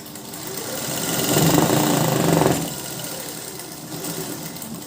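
A sewing machine runs a line of stitches joining the back and front neckline of a blouse, a rapid mechanical whir that swells for about a second and a half, then stops, leaving quieter handling noise.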